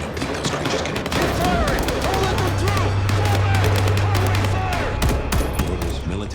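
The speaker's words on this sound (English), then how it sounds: "Gunfire?" Rapid bursts of gunfire crackle through a dense, busy game soundscape in Vampire: The Masquerade - Bloodlines 2, steady and loud across the whole stretch with layered background effects and music.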